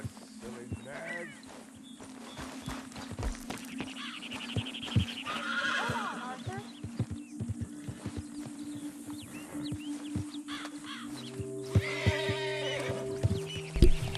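A horse whinnies several times in Red Dead Redemption 2, with hooves clip-clopping throughout, close and moderately loud, while someone speaks to it in between.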